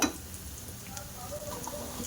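Garlic and ginger paste with chilli powder fries lightly, giving a soft, close sizzle mixed with a few scraping stirs and a small clatter at the start.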